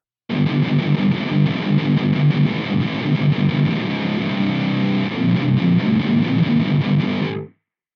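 A heavily distorted electric guitar through a Nux MG30 amp modeler on its combo front output plays steadily for about seven seconds, loud and thick, then cuts off abruptly.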